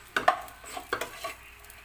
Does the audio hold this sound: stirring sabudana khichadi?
yes